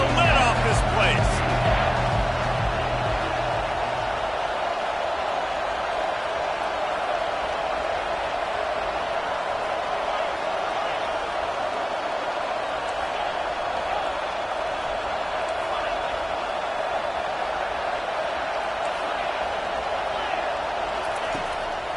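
A packed stadium crowd roars through a Clemson versus Notre Dame football game, a dense, sustained wash of cheering noise that stays loud for over twenty seconds, with a few sharp thuds near the start.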